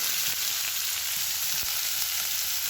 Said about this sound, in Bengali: এতে পেঁয়াজগুলো নরম হওয়া পর্যন্ত আমি এটা নাড়তে থাকবো আস্তে আস্তে।